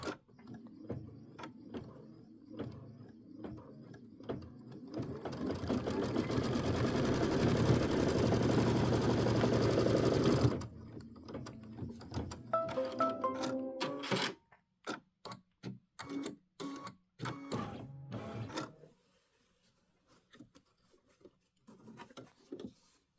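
A sewing machine runs an outline stitch on a Kimberbell Hello Sunshine pieced quilt block, first a steady loud whir for several seconds, then a series of short bursts and ticks with pauses between.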